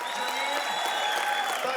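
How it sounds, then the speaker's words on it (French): Applause from an audience at a Palestinian gathering honouring Arab Idol winner Mohamed Assaf, a steady wash of clapping over the whole moment with some voices mixed in. "Je voudrais qu'on applaudisse Mohamed Assaf."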